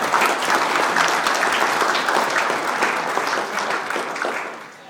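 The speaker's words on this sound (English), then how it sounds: "can I say to you, with round of applause, Gina Martin has got OBE and congratulations" An audience gives a round of applause at a community gathering of friends of Kashmir, honouring an OBE recipient; dense, steady clapping from many hands fills the room, loud and continuous before easing slightly at the end.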